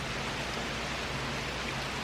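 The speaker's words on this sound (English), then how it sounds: "3-4 hours of this steady rain." Steady rain falls around a creek carrying a decent bit of runoff after hours of rain, a continuous even hiss with no breaks.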